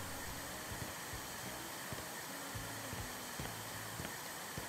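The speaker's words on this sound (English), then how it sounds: "let's vacuum first" A vacuum cleaner drones in the House Flipper 2 video game, a steady faint whooshing hiss that runs unbroken with no talking.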